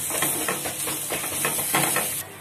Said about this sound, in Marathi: चवीनुसार मीठ टाकूया आपण हे हलवून घेऊया